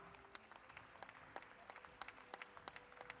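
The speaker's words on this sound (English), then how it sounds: "And the applause must just go on." Scattered audience clapping at a FOGSI medical conference as officials are introduced, sparse, uneven claps rather than a full ovation, fairly faint in a large hall.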